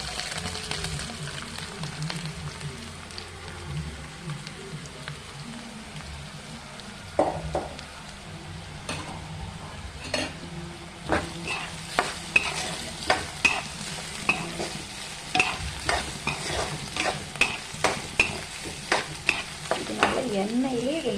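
Fried beetroot being stirred in a hot pan for a beetroot poriyal, a steady oily sizzle broken by repeated scraping strokes of a spatula that grow busier and more rhythmic toward the end.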